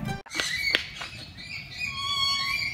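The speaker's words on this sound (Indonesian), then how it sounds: "itu bunyi burung." Birds at Ragunan zoo give thin, high chirps and short whistled calls over a quiet background, with a few sharp clicks near the start.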